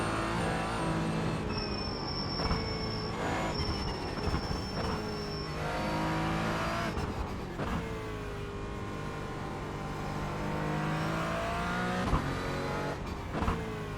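Porsche Cayman GT4 engine lapping the Nordschleife in iRacing, a loud continuous mechanical drone that swells and dips with gear changes and throttle, with a thin high whine in places and no talking over it.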